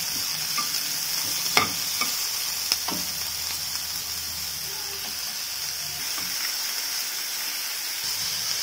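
Chopped onions sautéing in a pan give a steady, fairly soft sizzle and hiss, broken by a few sharp spatula scrapes and taps early on, close-up with no voices.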